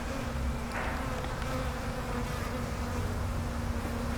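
Honeybees swarm out of a shipping package into a new hive, a dense continuous buzzing hum of many insects, steady and close, with no talk.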